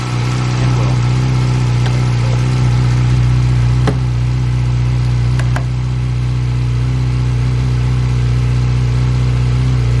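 A repaired Yamaha R6 motorcycle engine running steadily at a loud, close idle with a constant hum, alone with no talking.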